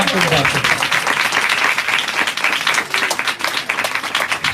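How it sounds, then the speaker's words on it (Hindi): A church congregation claps loudly and steadily during a sermon, with dense applause filling the space; some voices may be mixed in. "रूह कुदस के लिए जोरदार तालियां बजाकर खुदा के नाम को मुबारक हो।"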